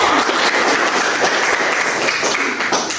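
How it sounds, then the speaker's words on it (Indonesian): Students in a classroom break into loud, dense applause, many hands clapping together in a continuous close-up roar for about three seconds. "Oke, berikan tepuk tangan teman-teman."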